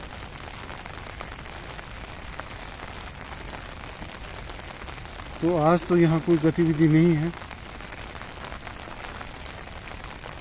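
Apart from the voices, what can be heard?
heavy downpour rain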